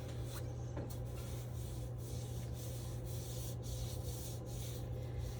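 A paintbrush spreads blue paint across a canvas while a lighthouse scene is painted, producing soft, steady scraping strokes that are faint and close, with no talking.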